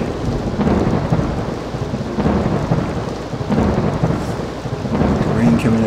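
Steady rain hisses through a thunderstorm in RollerCoaster Tycoon 3, with rolling rumbles of thunder swelling and fading in several waves over the downpour.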